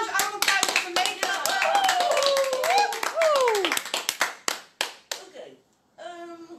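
A small group claps rapidly for several seconds, the claps thinning out and fading, while a voice talks over the applause and briefly after.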